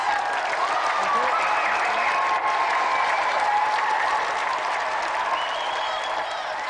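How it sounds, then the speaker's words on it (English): A TV game show studio audience applauds steadily throughout, a dense wash of clapping with faint crowd murmur underneath. "And another round of applause for Tammy and Mead and Ian Wright."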